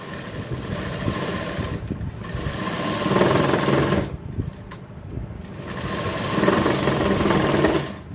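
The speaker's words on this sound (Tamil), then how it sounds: "இப்போ கையில் ஓரத்தில் தையல் போட்டுட்ருக்காங்க" A sewing machine stitching along the sleeve edge of a men's jacket, a continuous close mechanical whir that surges louder in runs and briefly pauses between them.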